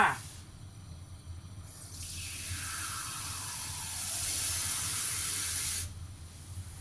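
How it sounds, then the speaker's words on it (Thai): A cup of plain water streams steadily into a bowl of beaten eggs for a Thai steamed egg dish, a soft hissing pour lasting several seconds before cutting off. "ไข่ห้าฟองก็ได้หนึ่งถ้วยเทเข้า ไปในนี้นะคะ ตามด้วยน้ำเปล่าก็หนึ่งถ้วยคือกันจ้า"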